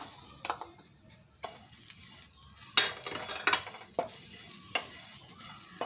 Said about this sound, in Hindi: अब ये हल्के हल्के फ्राई होने लगे हैं, इनकी गोल्डन होने लगे हैं, तो इसमें ये हरी मिर्ची भी हम डाल देते हैं